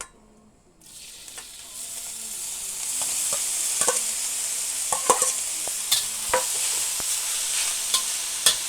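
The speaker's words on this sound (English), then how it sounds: "I'm going to be first putting in the mushrooms." Mushrooms hit hot oil in a pan and start sizzling, the hiss swelling from near silence into a steady, close crackle, with scattered pops and scrapes of stirring throughout.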